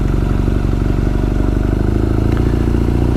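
A 2020 BMW R nineT Scrambler motorcycle ridden slowly at about 10 with the clutch in, its boxer engine giving a steady, loud low-pitched thrum with light mechanical clatter throughout, no talking.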